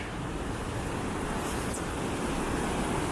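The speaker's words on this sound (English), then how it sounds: "crossing this really powerful river on a bridge" A powerful river rushes beneath a bridge in the John Muir Wilderness, a loud, continuous broadband roar of churning water with some wind, steady throughout.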